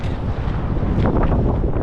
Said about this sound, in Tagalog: napapansin nyo, ang lakas ng hangin